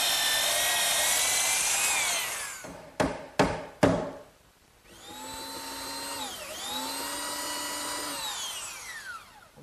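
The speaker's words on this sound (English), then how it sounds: "My belt sander does a good job removing any of the excess dowel." A belt sander grinds excess wooden dowel flush on a chair table. A close, loud, whining motor runs steadily, cuts out with a few sharp bursts, then starts again with its pitch dipping and recovering as the wood is pressed against the belt.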